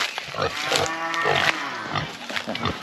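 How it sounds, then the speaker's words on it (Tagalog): A large pig on a farm grunts and snorts close by while eating at feeding time, in a few uneven bursts of rough vocal noise. "Isa sa malaki nating baboy dito."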